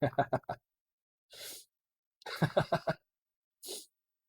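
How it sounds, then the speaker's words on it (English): Two short, sharp sneezes close to the microphone, each following a brief stretch of a person talking. "I don't know if that's making me sneeze."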